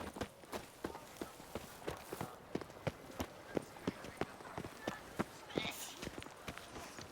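Roach, Geralt's horse in The Witcher 3, gallops with a steady, rapid run of sharp hoof clip-clops, evenly spaced and fairly close, over a faint background of ambient noise.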